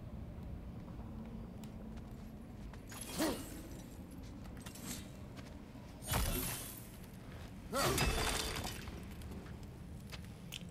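A Shattering Smash attack in God of War Ragnarök breaks apart in a few loud, crashing bursts, one short hit followed by two heavier smashes spaced over several seconds above a steady low game ambience.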